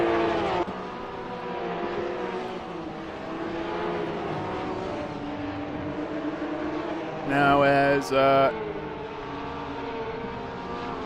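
Porsche Cup race cars at Brands Hatch, engines droning and shifting as the pack runs together, with a sharp loud car passing close by midway, under a commentator's talk.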